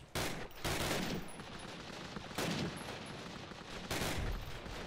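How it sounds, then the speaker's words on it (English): Sustained gunfire in the Call of Duty: United Offensive video game, a steady roar of rifle and machine gun fire with louder bursts, continuous and without talk. "He's just firing."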